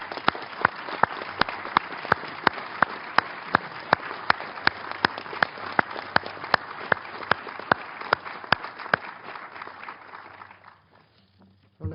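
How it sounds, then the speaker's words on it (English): Sustained applause fills a Security Council meeting chamber, an even wash of clapping that carries on for about ten seconds before fading out, with sharp regular ticks running through it. "people don't clap, but they're clapping for a remarkable young woman."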